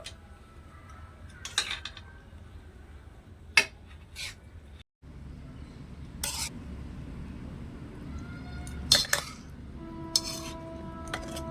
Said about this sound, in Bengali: এবার আমি একটা চামচ দিয়ে ঠিক এরকম করে একটু ভালো করে ছেঁকে নেব